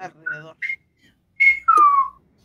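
A person whistles in short, playful bursts, mimicking the Sesame Street character Abelardo, with wavering tones and a final long falling note, close and clear.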